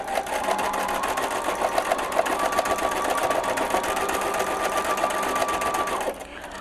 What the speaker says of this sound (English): Now what I'm going to be showing you here is contour stitching